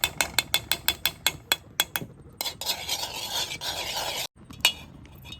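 Cashews added to hot ghee in a pan and stirred: a quick run of sharp, rhythmic metallic taps, then a busier stretch of scraping and sizzling before a short break and a few more clinks.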